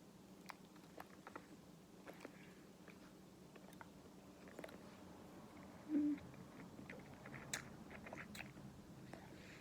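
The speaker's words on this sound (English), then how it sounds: "Were these always so hard to chew?" Hard food being chewed close to the mouth, a steady series of small crunchy bites and clicks with a brief louder moment, quiet overall with no talking.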